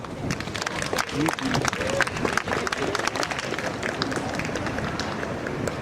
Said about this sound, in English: please bring a round of applause for Auntie Bougie